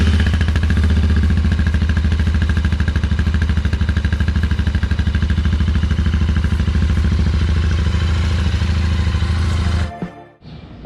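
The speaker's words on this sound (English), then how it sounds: "Cold start. See what it sounds like before." A Royal Enfield GT 650 twin-cylinder motorcycle cold-started and running, a loud, steady, close rumbling idle that cuts off abruptly near the end.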